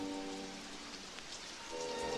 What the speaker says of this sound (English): the sound of the rain on the roof